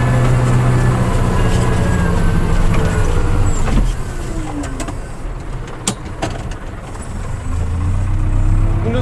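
An IHC tractor sowing a field, its engine running at a steady loud drone with low rumble throughout, close by and uninterrupted, with no talk.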